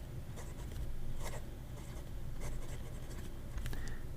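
A Majohn flex fountain pen nib scratches across paper in short strokes, close and quiet, with soft rustling between strokes.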